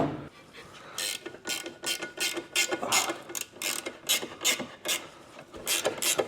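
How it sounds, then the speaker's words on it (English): A 13mm ratchet spanner clicks in quick bursts while working on the rusty rear suspension of a Subaru, close and clear, with repeated strokes and short pauses between them. "I'm just going to grab a 13mm ratchet spanner"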